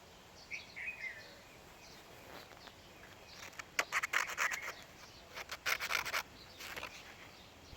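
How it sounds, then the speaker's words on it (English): Fine 320-grit sandpaper rubs across an acrylic painting canvas in faint, quiet rasping strokes that come in short clustered bursts, with soft bird calls in the background. "the sandpaper removes uneven emulsion or dust"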